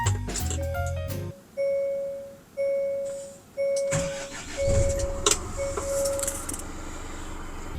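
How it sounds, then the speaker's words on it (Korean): The engine of a Hyundai County 29-seat long-body minibus cranks and catches after a few chimes from the dashboard, then settles into a steady idle close by. "자 그럼 시동 한번 걸어볼게요"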